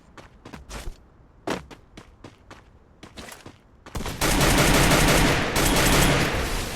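Several sharp video-game gunshots ring out one by one, then give way to a loud, continuous burst of rapid gunfire that lasts to the end.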